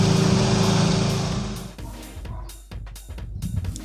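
An engine misfiring on spark plug number 2 runs with a steady, uneven buzz that fades after a second and a half, then gives way to sputtering, irregular bursts and knocks.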